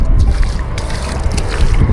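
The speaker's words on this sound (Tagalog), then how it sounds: "medyo lumakas ngayon ng hangin" Gusty wind buffeting the microphone in a low rumble, mixed with faint water lapping near rocks at the water's edge, steady and close for a couple of seconds.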